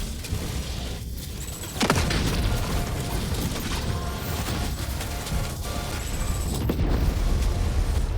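A laser beam weapon in Helldivers fires a sustained, loud, buzzing energy stream with crackling bursts and mechanical clatter throughout, and a sharper surge near the two-second mark.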